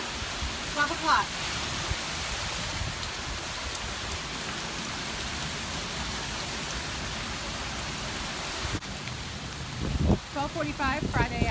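Heavy rain from Hurricane Matthew pours down in Jacksonville, Florida, a dense, steady hiss of water hitting surfaces throughout, with a brief faint voice and some rustling near the end.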